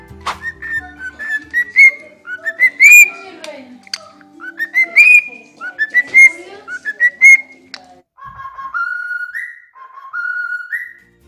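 A cockatiel whistles a series of bright, rising melodic phrases, repeated again and again, close and clear against a quiet background.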